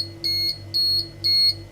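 A high-pitched electronic alarm sounds three steady, evenly spaced beeps, each lasting about a quarter second, loud and close over a low background hum.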